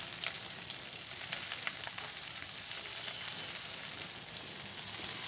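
Chopped bottle gourd leaves fry in a pan of hot oil, giving a steady soft sizzle with faint crackles, quiet and continuous, with no talking.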